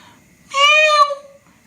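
A person's voice imitates a cat with a single short, high, nasal meow lasting under a second. The sound is clear and close against near silence.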